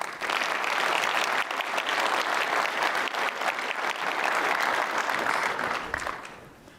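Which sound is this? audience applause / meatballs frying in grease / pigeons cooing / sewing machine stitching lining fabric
audience applause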